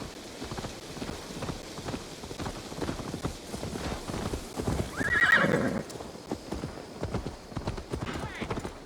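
Horse hooves in Assassin's Creed Valhalla clip-clop in a steady, brisk rhythm, with a whinny partway through and spoken dialogue over the top.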